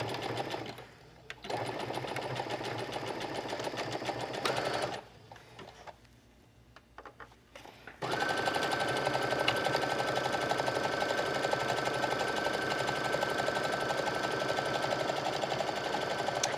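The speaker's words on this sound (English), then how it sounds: "I like to switch just to a zigzag stitch for the top stitching" A sewing machine runs a zigzag top stitch along a swimsuit leg hole, a fast rhythmic mechanical whir that starts and stops in bursts, then runs continuously and loudly close up.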